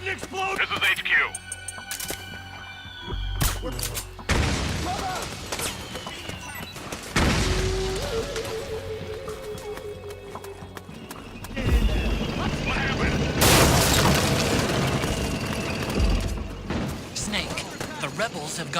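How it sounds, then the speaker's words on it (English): Explosions and gunfire boom through a battle scene in the video game Metal Gear Solid 4: Guns of the Patriots, with several loud bursts and rumbling blasts spread across the clip, and voices heard between them. "I heard an explosion!"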